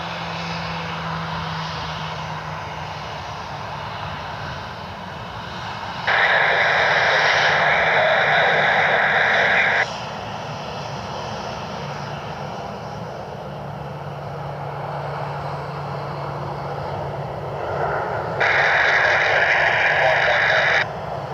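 Airliner departing Cleveland Hopkins airport, a Denver-bound jet in a former Star Wars livery, its engines a steady broad roar with two louder surges partway through, heard from a distance outdoors.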